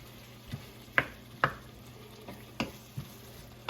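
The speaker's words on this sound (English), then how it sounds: "Give it a nice stir." A spoon scrapes and knocks through fresh pasta sauce in a pan, with about half a dozen distinct taps and scrapes at irregular intervals over a faint low simmer and no talking.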